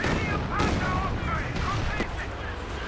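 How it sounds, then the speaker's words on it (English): Rocket artillery barrages in Company of Heroes 2, a dense rumbling wash of repeated blasts and gunfire filling the whole stretch, loud and continuous under game noise. "Oh, more rocket artillery coming in"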